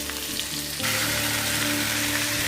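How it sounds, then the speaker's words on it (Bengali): Potatoes fry in a pan with a steady, close sizzle that continues throughout, and a low background hum sits beneath it. "আর এদিকে আলুটা ভাজতে দিয়েছি।"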